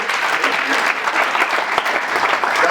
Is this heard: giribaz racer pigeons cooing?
no